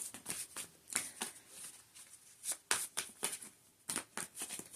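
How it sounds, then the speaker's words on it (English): A deck of tarot cards is shuffled by hand, giving soft, quick riffling and slapping bursts in an irregular rhythm, close and quiet with no voices. "It felt awkward trying to shuffle the cards"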